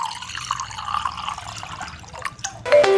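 Water poured into a cooking pot while making red-and-white agar pudding, a steady close liquid splash and trickle that swells louder near the end, with no talking.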